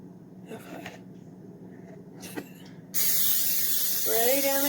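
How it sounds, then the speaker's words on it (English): Olive oil spray is sprayed onto raw chicken headed for a pressure cooker: after a few quiet seconds of handling, a loud, continuous hissing spray starts and runs to the end. "Then I'm going to take some olive oil spray."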